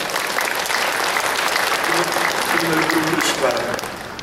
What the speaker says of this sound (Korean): 한번 격려의 박수 한번 해주시기 바랍니다.